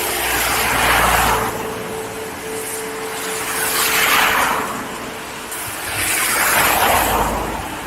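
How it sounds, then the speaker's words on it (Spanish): A passing car sweeps by outdoors on a road near an abandoned house in Spain, its broad tyre-and-engine roar swelling, fading and swelling again in three waves over eight seconds, fairly loud with no talk. "Viene un coche."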